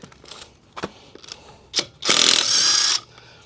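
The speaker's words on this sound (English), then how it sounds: "I'll just pull off one of my vehicle lug nuts and show you how powerful it can be." A new cordless power tool, likely an impact wrench, zaps off a tight vehicle lug nut in one loud, close burst of about a second. Brief clicks and handling noises come before it, and no one talks.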